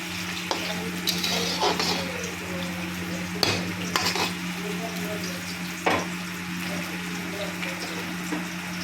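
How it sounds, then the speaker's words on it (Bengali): Steady sizzling of ash gourd, potatoes and pointed gourd sautéing with spices in a pan, with occasional scrapes and clinks of a utensil stirring, continuous throughout. "একসাথে মশলাটাকে কষিয়ে নিচ্ছি"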